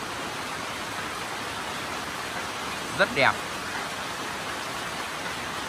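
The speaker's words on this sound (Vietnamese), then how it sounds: "Và thời tiết đang rất là mưa. Đó, mưa." Rain falls steadily outdoors among flowering plants, a constant broadband hiss that fills the whole stretch, with a brief spoken remark near the middle.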